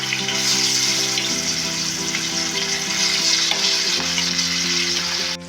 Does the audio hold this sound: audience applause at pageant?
no